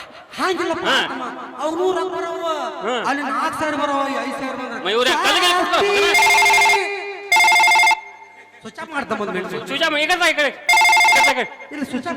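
A telephone rings in several loud bursts during a Kannada folk stage drama, mixed with voices and chuckling from the performers.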